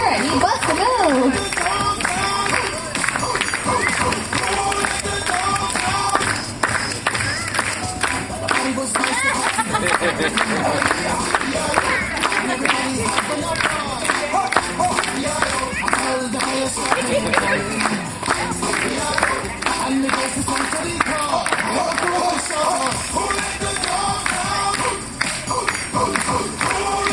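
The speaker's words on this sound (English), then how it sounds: "I need everybody to clap along to me" Crowd at a sea lion show at Atlantis Marine World clapping along in a steady rhythm, dense and continuous with cheering and chatter mixed in, loud and close, while a presenter's amplified voice carries over the top.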